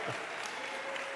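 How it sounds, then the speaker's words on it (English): An audience at a mayor's town hall meeting applauds in a brief, steady burst of clapping from many hands. "Let's give them a round of applause, please."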